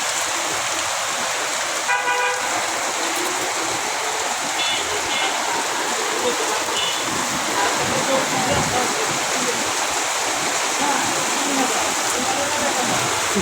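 Steady, dense rain pours over Dhaka city, a constant wash of hiss from start to finish, with a brief car horn toot and faint traffic sounds in the background.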